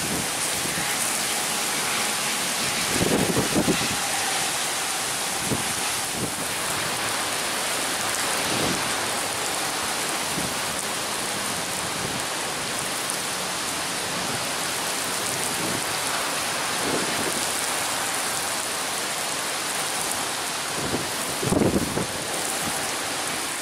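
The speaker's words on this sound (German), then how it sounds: "Ist doch ein bisschen viel Regen auf einmal." Heavy storm rain pours steadily and loudly during a summer downpour in Heiligenstedten near Itzehoe, heard from beneath a bridge as a dense, unbroken roar with occasional low thumps.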